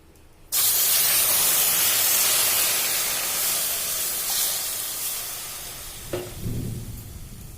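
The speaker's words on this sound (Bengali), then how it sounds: "আমি এখন জল দিয়ে দিচ্ছি এর মধ্যে।" Water hits hot sugar in a pan while making mango pickle, setting off a sudden loud burst of hissing steam and sizzle that holds steadily, fading slightly, with a small clunk near the end.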